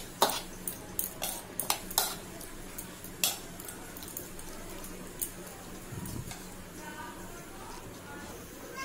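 A utensil stirs ground spice paste into prawns in a pan, giving a string of sharp metallic clicks and scrapes close by, clustered early and thinning out, with a quiet background.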